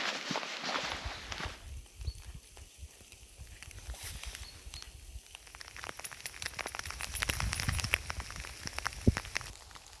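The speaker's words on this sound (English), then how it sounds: "Raining. A lot." Heavy rain patters steadily through a forest, mixing a soft continuous hiss with sharper, closer drops tapping on leaves and ground. The drumming thickens toward the end, with no voices heard.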